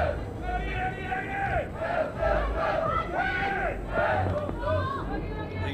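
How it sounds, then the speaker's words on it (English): A football crowd of Mexican supporters at the Homeless World Cup 2018 chants a rhythmic oggy oggy oggy, a loud, massed call-and-response of voices repeating in steady waves throughout. "the Mexican crowd here loving an oggy, oggy, oggy"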